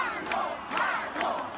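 A jubilant crowd of Emmanuel Macron's supporters cheers his election victory, a roaring mass of voices that swells in repeated surges of shouts, loud and sustained, with no single speaker audible.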